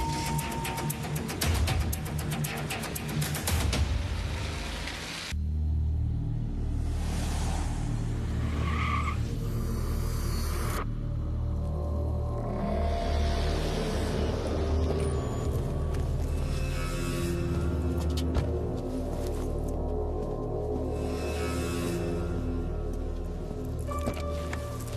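A Rolls-Royce being driven in a film scene, a steady engine drone and road rumble with a brief tire squeal or skid near the start, then smooth continuous driving noise.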